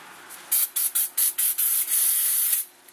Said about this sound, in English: A little bit of brake cleaner on that.